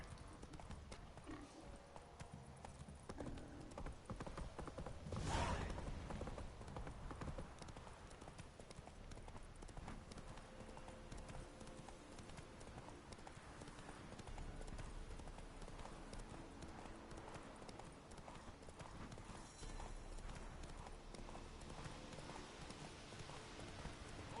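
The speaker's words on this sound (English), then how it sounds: "She's racing. Run, Roach" A horse gallops in The Witcher 3 video game, its rhythmic clip-clop hoofbeats running steadily through the whole stretch alongside game ambience, with no talking.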